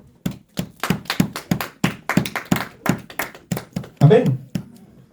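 A church congregation claps in rhythm, sharp hand claps that come steadily and close together, loud and close, ending in a brief burst of louder clapping with voices.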